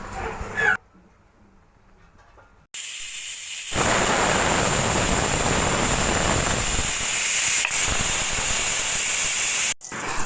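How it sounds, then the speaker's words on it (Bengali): A pressure cooker on a medium gas flame cooking Bengali mutton curry lets off a loud, sustained hissing whistle of steam lasting several seconds, after brief quieter stretches and abrupt cuts. "আর তিন চারটে সিটি দিয়ে নামিয়ে নিলাম"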